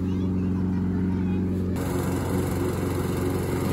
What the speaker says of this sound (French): il y a mon PG qui passe la tondeuse